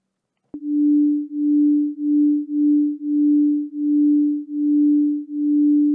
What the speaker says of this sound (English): signals are going in and out of phase with each other. That's what's creating that wobble.